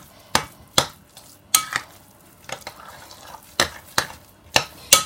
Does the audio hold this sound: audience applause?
no